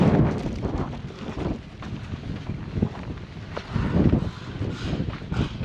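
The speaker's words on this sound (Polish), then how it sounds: "Ale dzisiaj wieje." Strong seaside wind buffets the microphone near farm fields where an Ursus C 360 tractor is rolling sandy ground, a continuous low rumbling roar with gusty surges, loud and close throughout.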